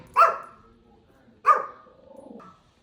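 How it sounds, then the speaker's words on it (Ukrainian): A dog barks twice indoors, two sharp close barks about a second apart, followed by a softer trailing whine or yip. "Та це я, что ты гавкаєш, Лень?"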